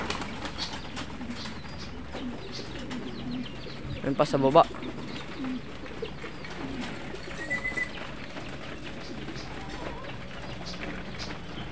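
Racing pigeons in a loft coo softly, with a brief burst of wing flapping and faint chirps amid low background noise, while someone speaks quietly.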